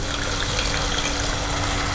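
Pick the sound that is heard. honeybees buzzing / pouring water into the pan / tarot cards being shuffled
pouring water into the pan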